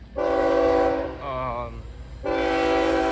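Union Pacific freight train horn blaring loud and near in two long blasts with a wavering, quieter stretch between, heard while railfanning at Elkhart in July 2025.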